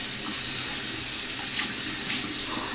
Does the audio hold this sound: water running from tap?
yes